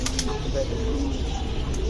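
Pigeons at a pigeon market give low throaty coos amid a busy background hum of the crowd, with someone talking over the birds and brief wing flutters.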